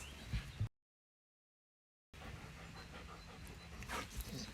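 A pet dog pants softly and steadily at close range in a quiet room, with a brief gap of silence partway through.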